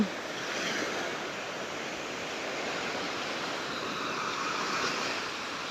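Steady roar of sea waves washing in at Bang Saen beach, continuous and fairly close, with a faint breezy hiss and no voices.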